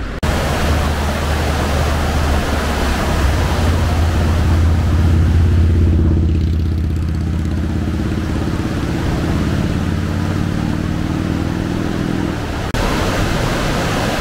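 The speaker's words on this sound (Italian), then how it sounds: "Cascate di Latefos." The Latefoss waterfall in Norway roars in a loud, steady broadband rush of falling water, with a low engine-like rumble mixed in at the start and again near the end.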